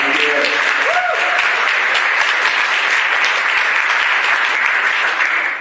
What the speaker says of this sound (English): that's a round of applause probably